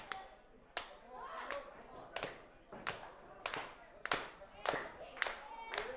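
Crowd at a wrestling event clapping in a steady rhythmic beat, about nine sharp unified claps roughly every 0.7 seconds, loud and echoing in an indoor venue.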